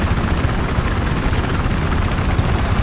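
A helicopter in the video game Battlefield 4 gives off a loud, steady, close rotor roar that stays unbroken and without talk for the whole stretch.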